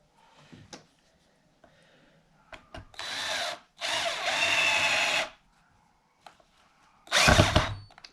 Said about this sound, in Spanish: montamos el otro tornillo.